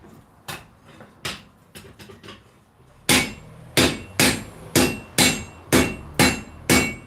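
Heavy hammer blows on hot steel being forged into a sword at a live fundraiser event, a few scattered strikes followed by a steady, evenly paced series of loud, ringing impacts, with no talking.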